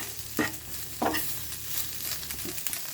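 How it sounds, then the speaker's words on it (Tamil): Senai kizhangu (elephant foot yam) frying in a pan with a steady crackle, plus a few sharp scrapes of a utensil stirring against the metal. No voices. "இன்னும் கூட கொஞ்சம் ஃப்ரை ஆகட்டுங்க"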